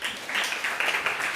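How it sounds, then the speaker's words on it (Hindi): A church congregation at a youth service claps together in a short, soft burst of applause lasting about a second, with no talking. "एक बार ताली बजाएंगे।"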